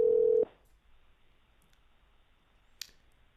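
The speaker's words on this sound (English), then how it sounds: "the beeping that you are hearing is Michael McCurdy's phone" A telephone sounds one loud, steady dialing tone lasting under half a second, followed by near silence with a couple of faint clicks.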